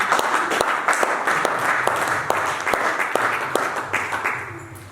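A church congregation breaks into loud, steady applause with sharp individual claps standing out, filling the room before gradually tapering off, with a voice speaking over it.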